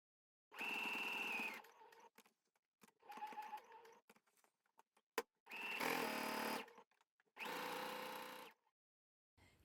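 A sewing machine stitches through a trouser welt, the trouser fabric and the lining in four separate bursts of steady, fast whirring, with short quiet pauses between the runs.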